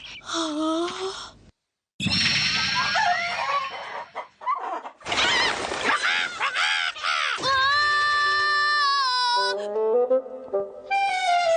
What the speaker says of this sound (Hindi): मुर्गियों को देखता हूँ।